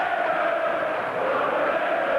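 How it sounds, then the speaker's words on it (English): A stadium crowd at a 1986 Great Britain versus Australia rugby league test match, a broad, steady roar of many voices rising into a sustained chant, heard from a distance. "Crowd starting up a singing chant at the moment."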